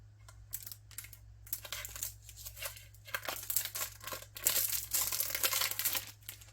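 Crinkly plastic packaging of sublimation HTV vinyl is handled up close, irregular rustling and crackling bursts that grow louder and denser toward the end, with no talk.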